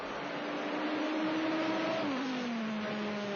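Dodge Viper GT race car on the track at Brno, a loud steady engine drone whose pitch slides downward as it passes by and then recedes.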